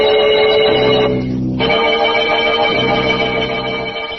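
Ringing bells as an old-time radio horror drama sound effect, a sustained bright metallic tone that briefly drops out and returns, loud and alone with no speech.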